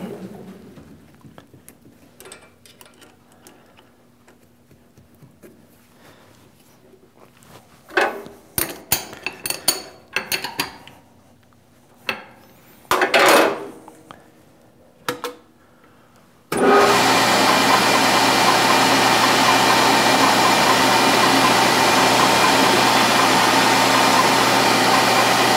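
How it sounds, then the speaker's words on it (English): A drill chuck center-drills a metal workpiece on a lathe. Scattered clanks and taps of tool handling come first, then the machine cuts in with a loud, steady whir that runs to the end. "And let's go ahead and just center drill this."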